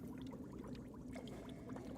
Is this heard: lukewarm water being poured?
yes